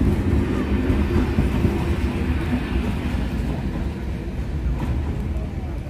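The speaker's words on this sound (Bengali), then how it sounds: "ট্রেনটা গেলেই গেটটা উঠবে।" A train bound for Howrah rolls through a busy level crossing at rush hour. Its steady, loud rumble and wheel clatter go on throughout, with faint crowd voices in the background.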